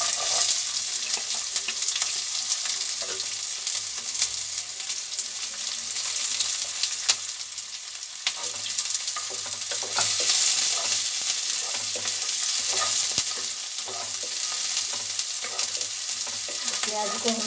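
Onions frying in hot oil for a samosa filling, a dense, continuous loud sizzle and crackle with occasional stirring scrapes, steady throughout with no talk.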